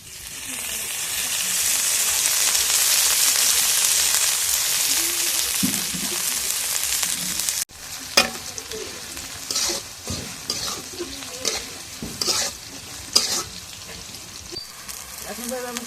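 Oil hits a hot pan with a loud, rushing hiss that swells and holds for several seconds, then gives way to brisk stirring: repeated clanks and scrapes of a spoon against the pan over a lower sizzle.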